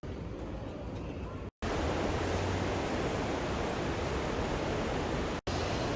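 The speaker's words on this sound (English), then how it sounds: "Yeah, it's pouring again." Heavy rain pours down in a loud, continuous hiss that stays steady throughout, with two very brief dropouts.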